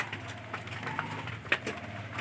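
Pigeons in a damaged home loft give soft, low, continuous cooing, faint and close over a murmuring background.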